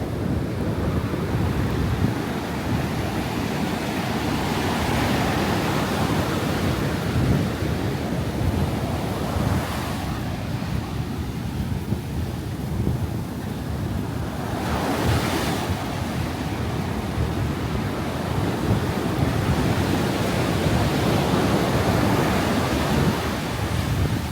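Ocean surf at Canggu beach in Bali washes in over bare feet, a constant loud roar of breaking waves with heavy wind buffeting the microphone and a couple of swelling wave surges.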